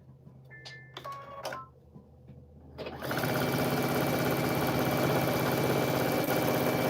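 A sewing machine stitching quilt pieces: after a few seconds of quiet handling noises, the motor starts and runs in a steady, fast, even whir through to the end, close and clear, with no speech.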